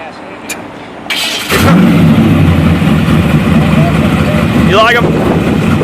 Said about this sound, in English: My badass engine.